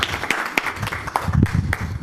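An audience applauds at a library author talk, a steady patter of many hands clapping at moderate distance, continuous throughout.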